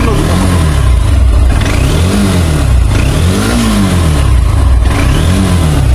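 A Honda X-Blade 160cc motorcycle with ABS brakes is revved repeatedly, the engine rising and falling in loud, close throttle blips over several seconds without pause.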